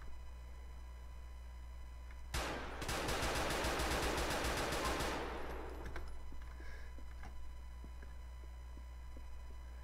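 AK-47 gunfire in GTA IV video game rattles out as one rapid automatic burst of about three and a half seconds, dense and sharp, then fades, with quiet background before and after.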